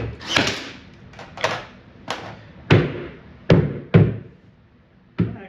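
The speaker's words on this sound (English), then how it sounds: "And we're just shooting into particle board." A staple gun fires into particle board on an arcade cabinet, giving about seven sharp, close impacts at irregular intervals with brief decays between them.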